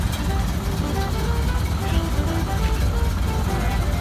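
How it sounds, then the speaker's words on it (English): A 1929 Ford Model A mail truck engine turns over and settles into a quiet, steady low rumble that holds evenly throughout, faint and close, with no talk over it. "The mail truck runs so quiet, I had to really boost the audio of this clip so you could hear it start."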